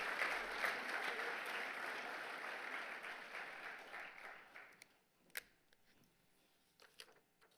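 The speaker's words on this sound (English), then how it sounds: "We can clap again." A seated audience at a university leadership awards ceremony claps steadily for several seconds, then the applause thins to scattered claps and fades out.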